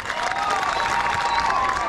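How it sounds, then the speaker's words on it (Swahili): A crowd at a political rally in Kisii claps and cheers for Faruk Kibet, a continuous dense wash of hands with faint voices mixed in. "Makofi kwa Faruk Kibet."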